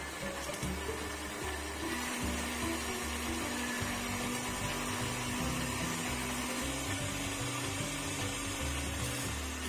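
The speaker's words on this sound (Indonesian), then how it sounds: "masukkan kemiri yang sudah disangrai ke dalam blender, masukkan jahe dan juga kunyit, tambahkan minyak goreng" A kitchen blender grinds roasted candlenuts, ginger and turmeric with cooking oil into a paste, a steady motor whir with churning, rattling texture running continuously at moderate volume with no talking.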